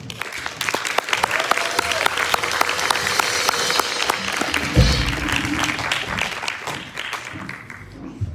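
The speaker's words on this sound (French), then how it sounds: "je propose aussi d'applaudir notre chanteuse Olivia Pahl" An audience at a music workshop show applauds the singer Olivia Pahl, sustained clapping with scattered sharp individual claps that thins toward the end, a short spoken remark heard partway through.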